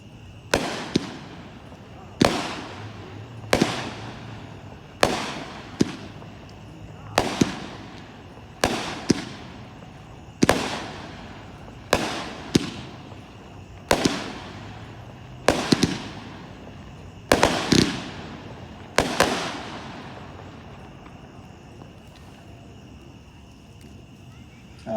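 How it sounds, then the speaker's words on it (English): A 200-gram fireworks cake fires its 16 shots at a public display, loud sharp bursts arriving one after another at roughly one-second-plus intervals over about twenty seconds, each with a brief crackling tail. "number 4 is pumpkin patch. It's pack 12-1. It's 16 shots,"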